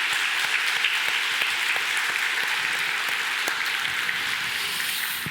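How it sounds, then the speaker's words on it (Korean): A church congregation at a Sunday service claps together, a dense, even roar of applause that holds steady for several seconds before tapering slightly at the end. "마음 담아서 박수 한번 옆에 분 바라보고 하도록 하겠습니다."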